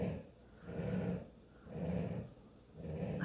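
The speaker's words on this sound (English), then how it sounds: "I can't get over that snoring." A fluffy dog snores close by in slow, even cycles, with three deep, rasping inhale-exhale swells rising and falling about once a second.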